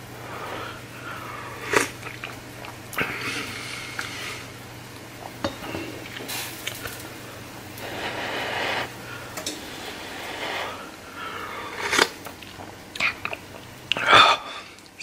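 Someone tastes a homemade seafood and vegetable soup, with soft chewing and mouth sounds, light utensil clinks and a few sharper bites close by over a quiet kitchen background.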